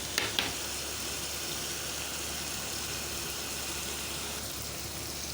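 Spices and shahi dal masala fry in a pan with a soft, steady sizzle and hiss, a couple of light clinks near the start, no talk over the quiet crackle.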